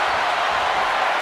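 Wrestling arena crowd in WWE 2K24 cheering in a dense, continuous roar, loud and unbroken, with no clear voices on top.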